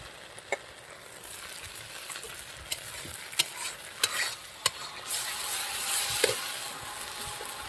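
Raw spices frying with thin whole folui fish in a pan, a steady close sizzle broken by several sharp spatula scrapes and taps, with no voices.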